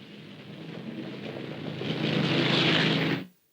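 Convair B-36 Peacemaker bomber engines, six propeller engines plus four jets, roaring as a loud, steady broadband drone that swells louder toward the end before cutting off abruptly.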